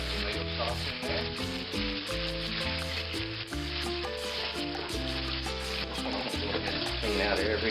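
Tomato sauce is poured into a hot pan for chicken poblano and sizzles steadily, a soft constant frying hiss with faint stirring, while a voice talks over it.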